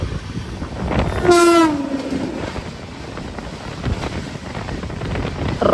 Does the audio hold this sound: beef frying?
no